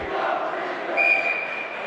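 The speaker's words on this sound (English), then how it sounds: "Crowd chanting something as they always do." A crowd of fans at a boys varsity high school hockey game between Winchester and Boston College High chants together in a sustained, blended roar heard from a distance, with a whistle-like tone rising briefly mid-way.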